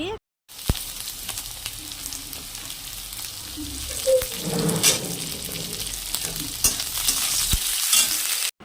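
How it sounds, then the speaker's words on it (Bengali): Brinjal (eggplant) pieces lightly frying in hot oil, a steady close sizzle with occasional stirring scrapes and a few sharp clicks of a utensil against the pan, no voices. "এবার আমি বেগুনগুলো হালকা হালকা ভেজে নিব"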